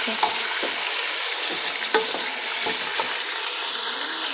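Mutton pieces fry in a hot pan for Peshawari handi, giving a steady, close broadband sizzle with a few sharp scrapes and clicks from stirring every second or so, no talking.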